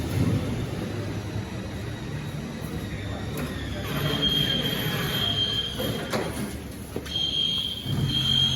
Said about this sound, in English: That's what it sounds like when we fill up our fire sprinkler systems.